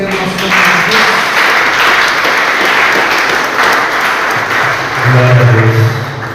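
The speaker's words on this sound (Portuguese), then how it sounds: "Pode aplaudir ao Senhor, receber o nosso Deus." A church congregation applauds during a service, loud sustained clapping filling the room, with a voice speaking over it near the end.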